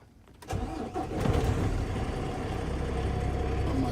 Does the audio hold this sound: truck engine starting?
yes